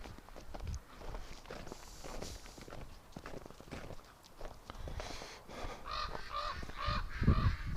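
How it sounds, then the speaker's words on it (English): A large crow calls from directly overhead outdoors in winter, a few harsh caws sounding close and loud above steady footsteps crunching along. "Oh, a big crow right over top of us."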